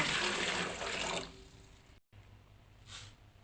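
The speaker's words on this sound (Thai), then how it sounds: "ใส่น้ำเปล่าลงไปค่ะ" Plain water pours steadily into a pot as the base for a syrup, a close splashing rush that stops after about a second, leaving faint trickles.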